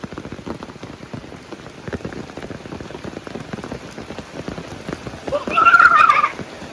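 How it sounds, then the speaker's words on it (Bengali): Steady rain falls on surfaces in a dense patter of close drops, swelling a little louder near the end, with a brief tonal animal-like call mixed in. "বৃষ্টি কি সুন্দর"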